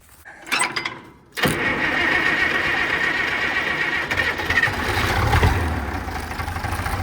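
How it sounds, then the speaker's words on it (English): Diesel tractor engine cold starting at a field planting, a short cranking burst followed by the engine catching and settling into a steady, loud rumbling idle. "Diesel, but cold start."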